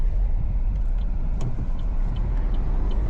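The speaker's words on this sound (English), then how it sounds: "Let's take it out for a little test drive." A Chevy Trax Activ rolls along a road, heard from inside as a low steady rumble of engine and tire noise with faint light rattles, no voices.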